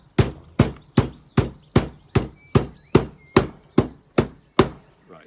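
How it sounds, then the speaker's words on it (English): A bar hammer beats a piece of lemongrass in twelve sharp, evenly spaced thuds, close and loud, each ringing briefly before the next strike. "I'm going to beat the living daylights out of this piece of lemongrass."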